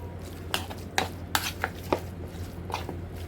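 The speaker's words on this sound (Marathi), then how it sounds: "हे सर्व टाकून आता आपण याला मस्तपैकी मिक्स करणार आहोत" A spoon mixes a chicken filling with ketchup, Maggi masala, chicken masala and salt in a bowl. It gives a series of close, sharp clicks and scrapes against the bowl at an irregular rhythm, with no talking.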